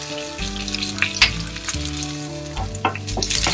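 Unpeeled garlic cloves and crushed dried coconut roast in a pan, giving a continuous close sizzle with intermittent scraping and stirring strokes, and no voices.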